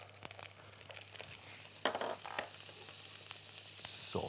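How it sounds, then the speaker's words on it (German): Butter foams and sizzles in a hot pan around a pike-perch fillet, a soft steady crackle with occasional sharper pops and spits, fairly quiet and with no talking. "jetzt lassen wir die kurz aufschäumen, diese Butter"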